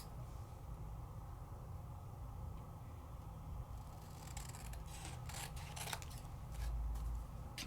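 Scissors trimming paper or cardstock for a handmade card, soft quiet snips and rubbing close by, with a few brighter cuts toward the end and no voices.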